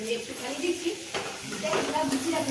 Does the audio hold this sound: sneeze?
no